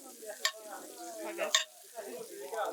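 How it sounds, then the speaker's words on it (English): Pheasant cooking in frothy butter in a pan gives a soft, intermittent sizzle with a few sharper bursts. It is fairly quiet and close, with no talking. "I'm trying to keep the pheasant off the heat now. I want the butter to do the cooking. So that nice frothy butter in there."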